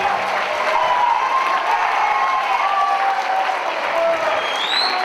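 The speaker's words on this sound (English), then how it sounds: "let's give a real nice round of applause again for all of our student performers this evening" Sustained applause from a large audience at an elementary school winter concert fills the space, steady and loud throughout with no break.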